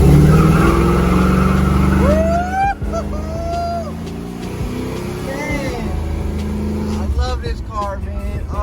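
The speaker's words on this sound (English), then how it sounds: "I'm gonna try to just stomp the gas and let the tires break loose." A car revs hard and its tires break loose, with swooping squeals and engine roar over several seconds while someone talks excitedly throughout.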